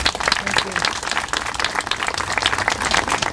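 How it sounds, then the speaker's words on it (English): Applause at a Day of Remembrance event for murder victims, a crowd clapping in dense irregular bursts, moderately loud, with someone speaking over it. "I think she deserves another round of applause"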